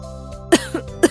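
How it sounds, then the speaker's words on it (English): A woman coughs three times in short, harsh bursts: one loud, then a softer one, then another loud one. The coughs are close and clear, with a quiet background and no talking. "What happened, mother? Why are you coughing?"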